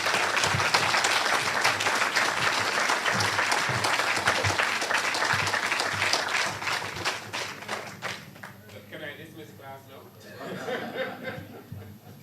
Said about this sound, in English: I invite you to give a round of applause to all those involved.